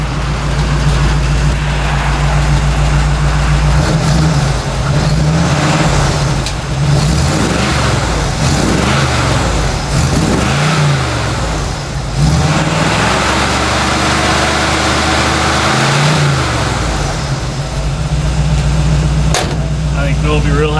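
An old manual-steering truck runs with its new exhaust fitted, a loud, steady low engine drone with a few rises and dips in revs while people talk over it.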